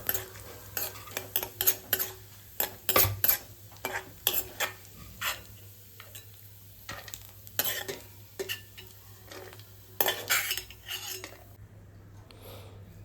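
Cashews, almonds and raisins fry in ghee while a spoon scrapes and clinks against the pan in irregular strokes over a soft, steady sizzle, close by.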